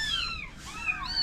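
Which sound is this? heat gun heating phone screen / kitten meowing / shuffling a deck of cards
kitten meowing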